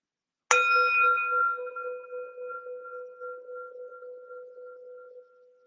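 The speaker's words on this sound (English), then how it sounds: "this bell and bow is the opening bookend of our practice" A single meditation bell is struck once and rings out clearly, its bright attack fading into a long, steady, resonant hum that slowly decays over several seconds in a quiet room.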